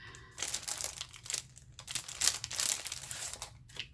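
Plastic packaging around puffy scrapbook stickers being cut open along its side, giving close, continuous crinkling and tearing rustles in several bursts, with no talking.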